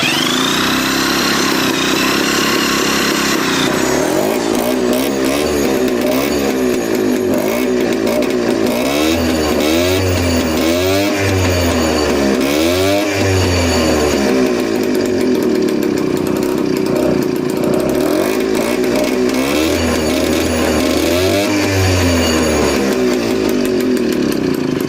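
A rebuilt Peugeot 103 SP/MVL moped engine running on a workbench for its first start, a loud, buzzy two-stroke drone with repeated throttle blips rising and falling throughout.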